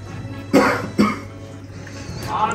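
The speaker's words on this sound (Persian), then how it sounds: "هنوز داره سرفه میکنه." A person coughs twice in quick succession, two sharp, close bursts about half a second apart, followed by a rougher throaty sound, with a low hum in the background.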